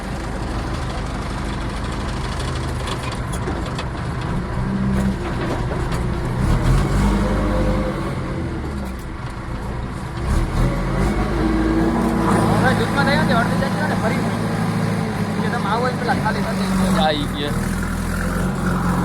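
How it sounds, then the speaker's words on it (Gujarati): A tractor engine idles and rumbles nearby on a farm during fertilizer work, running steadily for the whole stretch. Clattering and shifting noises mix in, with people talking over it throughout. "આપણું ટ્રેક્ટર લાગે છે"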